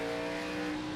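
A race car in a racing video game at Homestead pulls out of the pits on fresh Goodyear tires, a steady, loud, tonal engine drone held at a constant pitch.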